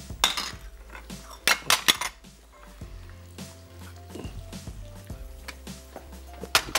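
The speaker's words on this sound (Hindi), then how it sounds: "अब मैं बर्तनों की तैयारी कर लूं।" Kitchen pots, pans and utensils being handled, with irregular metallic clanks, clinks and scrapes at varying loudness close by, sometimes in quick bursts and sometimes spaced apart.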